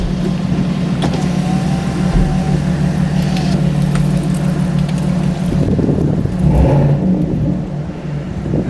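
A 2019 Chevrolet Silverado engine fitted with an AFE cold air intake runs just after startup with the windows open, a close, loud, steady hum and whir that swells briefly near the end, then eases.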